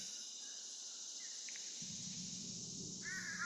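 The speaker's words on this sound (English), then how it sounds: "to these cicadas singing in the trees" A continuous high, buzzing cicada chorus drones from trees near a back porch, faint and steady, with a low rumble entering partway through.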